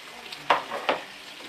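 Grated, finely chopped garlic sizzling in butter, heard as two short bursts of frying as it is stirred in the pan, close and moderately loud with no talking.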